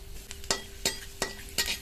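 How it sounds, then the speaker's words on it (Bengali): Panch phoron and slit dried chilies fry in oil left from frying fish, with a soft sizzle under four evenly spaced spoon taps against the pan, close by. "মাছ ভাজা তেলের মধ্যে দিয়ে দেবো পাঁচ ফোড়ন শুকনো লঙ্কা চেরা"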